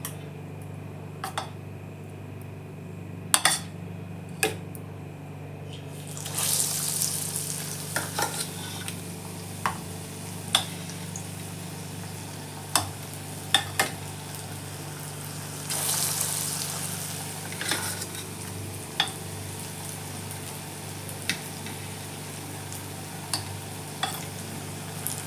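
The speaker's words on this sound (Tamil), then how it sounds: "காஞ்சதுக்கப்புறம் நம்ம உருண்டை எடுத்து மாவில் சேர்த்து நம்ம பொரிக்கலாம்." Vada pav potato balls dipped in batter and frying in hot oil in a kadai, a low steady sizzle with scattered clicks and a few louder bursts of bubbling, faint and continuous with no talk.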